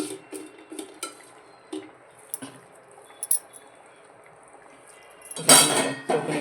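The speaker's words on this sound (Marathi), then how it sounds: "हलवून घेते वांग" Metal spoon scraping and clinking in a pan as salted eggplant (khara vanga) is stirred, a series of light irregular clinks followed by a louder, closer scraping burst near the end.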